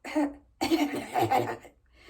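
A voice imitates a cough: two hoarse, throaty bursts close up, a short one followed by a longer, rougher one.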